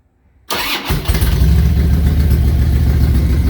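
After a moment of silence, a 2004 Harley-Davidson Road King motorcycle engine cranks and fires up, settling into a deep, loud, rumbling idle close by.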